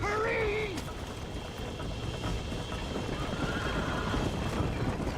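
A horse whinnies loudly at the start in a video game, followed by continuous clip-clop of hooves over steady rolling noise.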